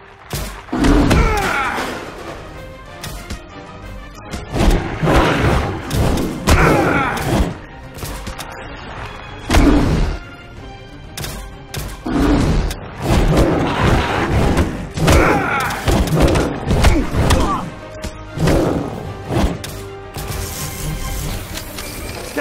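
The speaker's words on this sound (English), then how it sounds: "The artillery's here!" Heavy artillery bombardment in The Golden Compass video game during the Trollesund mission, with repeated loud booming thuds and impacts spaced every second or two over a continuous battle din with shouting.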